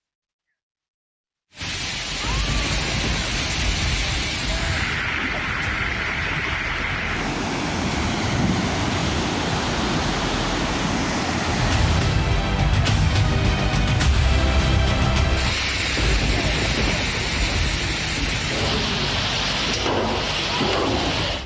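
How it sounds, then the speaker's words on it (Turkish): Flood water rushes after a heavy downpour in Kayseri that brought down a retaining wall. The roar is loud, broad and unbroken, like surf, with gusts of wind buffeting the microphone. It starts abruptly and runs steadily to the end. "sağanak sele dönüştü, istinat duvarı böyle yıkıldı."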